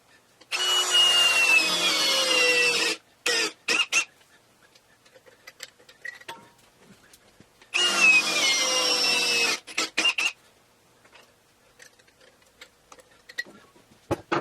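A power drill whines in two long bursts, drilling drainage holes in a tire for a backyard tire swing, each followed by short rattling spurts, with quiet handling noises in between.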